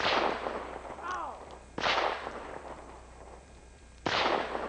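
Gunshots ring out in Idaho mountain country during a mountain lion hunt, three sharp reports a couple of seconds apart, each with a rolling echo, and faint voices murmur between them.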